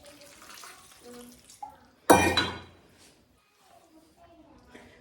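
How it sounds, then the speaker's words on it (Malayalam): Water is poured into a cooking pot holding salt and curry leaves, making one loud, close splash and gush lasting under a second, framed by quieter clinks and handling noise. "എന്നിട്ട് വെള്ളവും ഒഴിച്ചു കൊടുക്കുക"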